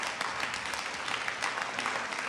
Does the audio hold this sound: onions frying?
no